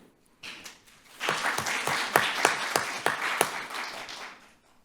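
Applause breaks out in a city council chamber, a small group clapping unevenly at first, then swelling into distinct sharp claps before fading out.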